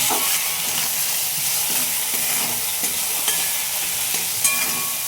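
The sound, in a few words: fish curry spice paste being stir-fried in a pan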